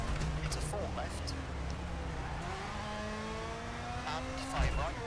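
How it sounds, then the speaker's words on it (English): A rally car engine in the racing game EA WRC drives along a rainy stage, a steady mid-level drone with rising and falling revs and gear changes, while a co-driver's voice reads pace notes over it. "it sounds quite strange as rally cars go as well"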